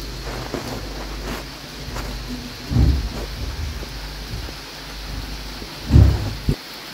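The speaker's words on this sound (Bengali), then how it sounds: "আর এই তো বৃষ্টি হচ্ছে কিন্তু অন্ধকার" Rain falls steadily in the dark, with two low rumbles of thunder rolling in partway through and near the end over the constant patter.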